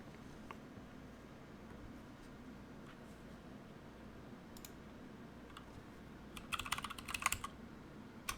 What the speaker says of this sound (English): Don't try to discern my my passwords based on the sound of my keystrokes.